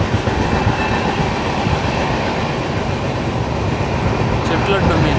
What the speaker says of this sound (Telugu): ట్రైన్ అయితే ఏమో స్పీడ్గా వెళ్తుంది